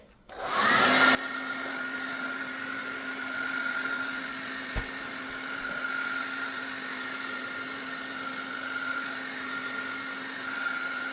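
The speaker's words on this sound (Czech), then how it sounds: "tak opäť zaktivujeme ho teplom, napríklad fénom a budeme lepiť" A hair dryer blows hot air to reactivate dried glue on a boot being laced, a steady mid-loud whirring hum running throughout after a brief louder burst at the start, with no voices.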